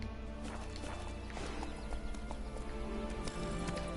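Roach the horse from The Witcher III gallops with a steady, rapid clip-clop of hooves in the game, a brief whinny cutting through, loud and continuous over a dense game soundscape.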